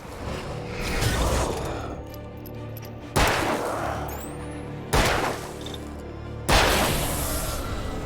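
Gunshots in the Alan Wake video game: three sharp, loud blasts spaced a couple of seconds apart, each followed by a long echoing decay, over a low ambient rumble with no talk.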